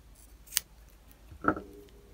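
Scissors snip off excess crochet yarn in two short, crisp cuts about a second apart, close and quiet with no talking.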